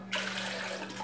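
Tap water runs into a kitchen sink while a tin is washed, a brief close splashing rush lasting about a second, with no voices.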